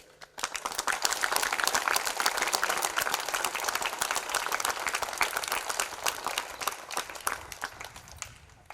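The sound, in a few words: round of applause at a school welcome ceremony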